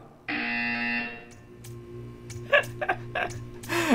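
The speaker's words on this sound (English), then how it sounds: "You will hear a buzzer." A steady electronic buzzer in the video game Portal 2 drones for about a second, then stops, followed by scattered clicks and short noises.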